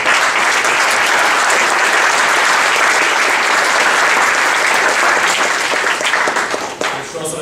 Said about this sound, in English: Round of applause for our...